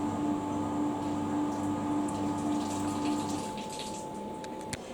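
Coolant flows steadily on a Tormach CNC lathe as a constant watery rush over a low pump hum, close and unbroken, with faint clicks near the end and no voices.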